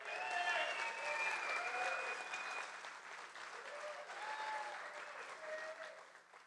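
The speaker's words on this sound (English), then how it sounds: "That's worth a round of applause right there" A room full of people applauds after an introduction of a photographer honored at a surfing-community event, a dense steady clatter of many hands that swells, dips slightly midway, then fades toward the end, with faint voices and cheers mixed in.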